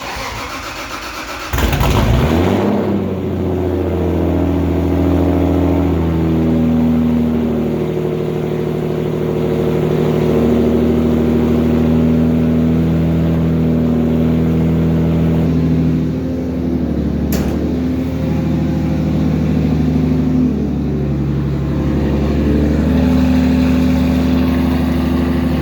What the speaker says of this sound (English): let me get you a cold start because I know everybody loves that.